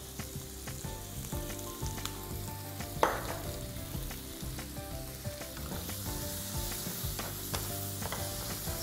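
Tomatoes fry with turmeric and onion in a pan, giving a steady, close sizzle with small crackles and an occasional clink of stirring throughout, and no talking.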